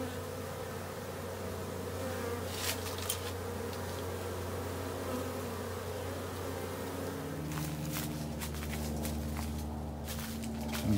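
A honeybee swarm drones steadily as the bees move into a swarm trap box outdoors, a close, constant buzzing hum with occasional brighter passes of individual bees nearby and a few soft knocks.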